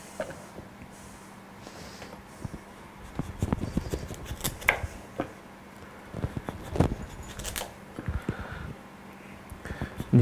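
A sharp knife peels the skin off a butternut squash in quiet, close, intermittent scraping strokes with short pauses between cuts.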